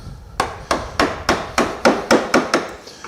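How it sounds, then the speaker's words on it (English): A chisel is struck with a mallet into wood with the grain, about nine sharp, evenly spaced blows ringing close and loud with no talk. "Here you can also get it with a chisel."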